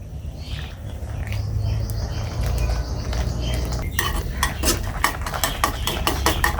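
A spoon stirs cream and cornflour into milk in a pot. A low steady hum runs underneath, then a run of quick metallic clinks and scrapes against the pan's side.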